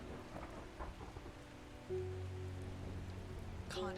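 Rain and a thunderstorm in the video game Strange Horticulture, a quiet patter with low rumbles, then a steadier tonal layer rising midway.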